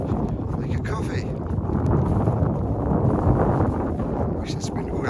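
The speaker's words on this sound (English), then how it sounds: "Wish this wind would actually stop" Wind blowing hard during an outdoor walk, a continuous loud rushing buffet across the microphone with gusty swells, while someone talks faintly at moments beneath it.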